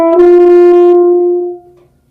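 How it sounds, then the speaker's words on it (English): A single sustained French horn note, warm and full, held for about a second and a half and then fading, loud and close with no voices. "This is a French horn, and it is a part of the brass families"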